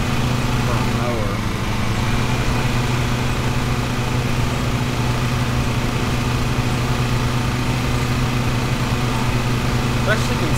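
Lawn mower engine in the game Lawn Mowing Simulator, a steady droning hum at constant pitch running the whole time, with a person talking over it.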